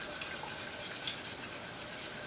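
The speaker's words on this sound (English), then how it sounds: "So whisking that, it smells so good." Banana bread batter is whisked in a bowl, a soft, steady scraping and stirring close by but quiet, with no voices.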